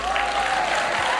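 Applause from a studio audience at a televised gala for a reality show, a steady dense wash of clapping throughout, with a sustained tone running underneath.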